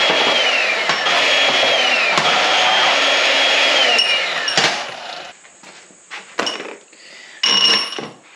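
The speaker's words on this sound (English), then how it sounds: "we need to chop up our all thread" A power tool cuts through all-thread rod, a loud continuous high-pitched whine and grinding screech for about five seconds, followed by a few short bursts and clanks as the cut finishes.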